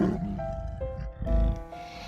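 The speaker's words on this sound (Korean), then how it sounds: "완인이 무리가 말라이카를 부르며 힘껏 포효했다." Several lions roaring together as an audiobook sound effect, heard as low rumbling calls over soft sustained music, with a deeper thump-like swell midway.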